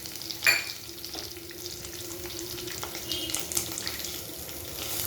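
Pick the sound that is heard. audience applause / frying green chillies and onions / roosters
frying green chillies and onions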